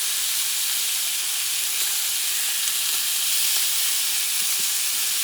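Butter sizzles loudly in a hot pan where lamb shoulder blade chops are frying, a dense, continuous close-up hiss and crackle with no talking.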